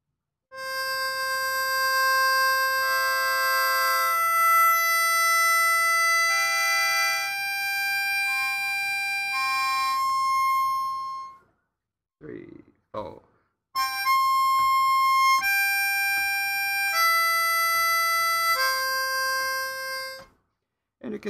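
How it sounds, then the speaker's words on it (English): Harmonica sounding a single note on hole 5, held in long steady tones with brief breaks, clear and close, with a short burst of talk in the middle gap. "and then 5, single note. It sounds like this."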